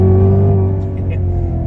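A supercharged Cadillac CTS-V engine runs with a steady, loud droning hum and strong low tones that rise slightly, close by and continuous throughout.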